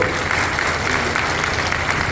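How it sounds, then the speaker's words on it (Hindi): Audience applause at a workers' conference in Rajnandgaon fills the hall, a dense steady wash of many hands clapping throughout at full loudness. "तो थोड़ा ताली बजाओगे सभी लोग?"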